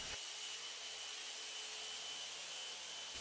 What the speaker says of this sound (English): I completed the process using a Festool Rotex sander